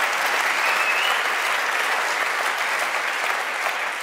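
Sustained applause from a large audience at an award ceremony, dense and steady clapping filling the hall at full volume for the whole stretch without letup.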